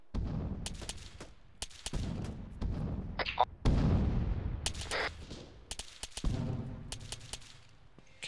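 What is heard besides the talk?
gunfire and artillery rounds in the video game Arma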